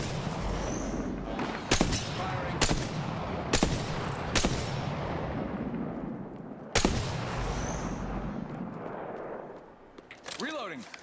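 Game gunfire in Apex Legends: several sharp, loud shots at irregular intervals over a continuous rumbling battle background, with a faint voice underneath.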